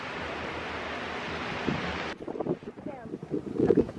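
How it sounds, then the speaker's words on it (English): Ocean surf at Table Rock Beach rushes steadily with strong wind buffeting the microphone, then the wash drops away as people talk and laugh nearby. "Welcome to Table Rock Beach."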